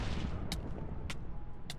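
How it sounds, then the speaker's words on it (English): Explosions in a Minecraft Naruto mod game, a low continuous rumbling blast with three sharp bright cracks spaced about half a second apart, fairly quiet overall. "Explosion."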